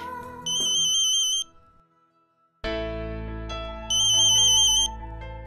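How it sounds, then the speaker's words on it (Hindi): A phone ringtone plays in two loud bursts of a bright electronic warbling melody over background music, separated by a short quiet gap. "डीके सर का फोन है, मैं बात करता हूँ, तुम आगे चलो।"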